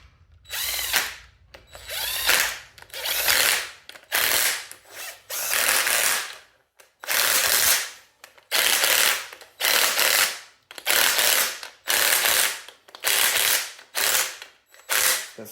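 A ratchet wrench clicks in quick repeated bursts while snugging down bolts on a Toyota 3A-C engine, each burst a rapid close rattle separated by short pauses.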